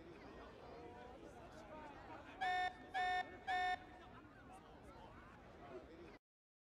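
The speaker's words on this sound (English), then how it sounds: "This alarm's worrying." Three evenly spaced electronic alarm beeps sound in the video game Xenoblade Chronicles 3, loud and clear over a continuous bed of game music and ambience.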